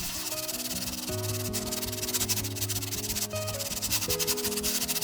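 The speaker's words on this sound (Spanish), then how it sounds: "vamos a lijar hasta dejar la superficie completamente lisa" Steady, rhythmic rubbing of sandpaper on a wooden crate surface, continuous strokes close up with a tonal hum in the background.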